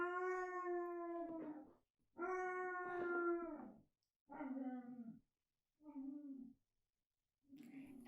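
Basset hounds let out a series of long mournful howls, four or five drawn-out calls with silent pauses between them, fairly close and alone without talk.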